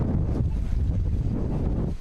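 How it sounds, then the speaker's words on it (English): A strong November wind roars across downtown Central Ohio, buffeting the microphone in a constant, loud, low rumble that lasts the whole stretch without talk. "That November wind was blowing."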